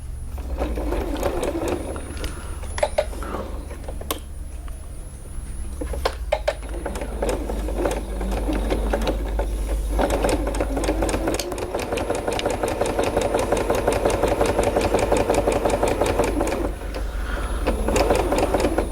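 A sewing machine fitted with a skinny walking foot stitches a fabric mask in white thread, running in a dense, fast mechanical chatter with a low motor hum, pausing briefly then resuming for a long continuous run, close and loud.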